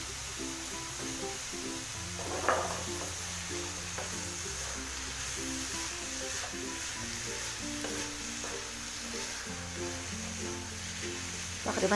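Carrot halwa roasting in ghee in a pan, a steady sizzling fry with repeated stirring scrapes and clinks running throughout at moderate level.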